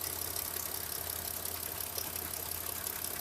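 A warm petrol engine of a Mitsubishi Pajero 4 idling, a steady even drone with a faint hum and light rattle, heard close and alone without speech.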